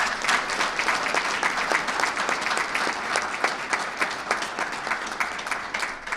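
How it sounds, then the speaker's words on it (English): A crowd at a public safety event applauds members of the state police, continuous many-handed clapping at fairly close range, steady and even with individual claps standing out. "I want to just give a special round of applause to all the members of"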